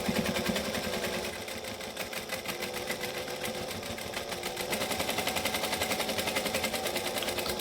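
A sewing machine runs steadily with a dense, rapid mechanical chatter, stitching through gathered fabric and then backstitching, the needle's rhythmic clatter close and continuous throughout.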